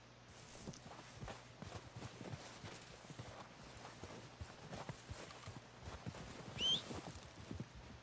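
Horse hooves clip-clopping at a walk in the Red Dead Redemption 2 video game, a steady soft rhythm of light hoofbeats over quiet ambience.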